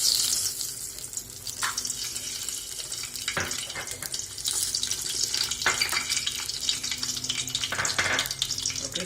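Whole cinnamon, cardamom and cloves sizzling in hot oil, a continuous hissing crackle with a few sharp bursts and clinks, no talking.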